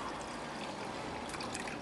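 Dark Lebanese-style Kool-Aid drink being poured into a container, a steady close rushing trickle of liquid that continues evenly throughout.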